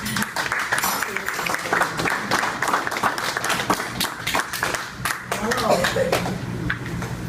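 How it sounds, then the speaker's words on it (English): An audience at a community gathering on Molokai applauds, steady clapping throughout with a sharp, dense texture, while voices and talk carry on over it. "How about a round of applause?"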